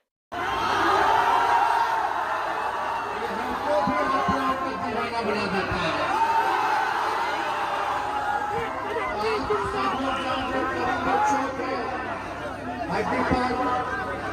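Large crowd at a political rally addressed by Tejashwi fills the air with dense chatter, shouts and cheering, a continuous loud babble of many voices that rises and falls without pause.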